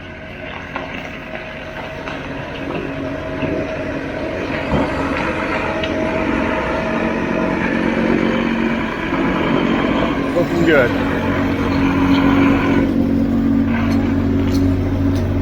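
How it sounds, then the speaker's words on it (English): A concrete pump truck's diesel engine runs at a job site with a steady, loud rumble that grows slightly heavier over time, while someone speaks briefly over it. "So today we're pumping with L&E concrete pumping."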